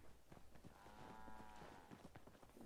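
A cow-like creature in Fallout 4 gives a drawn-out, tonal lowing call near the middle, set against background game ambience and soft footstep-like thumps.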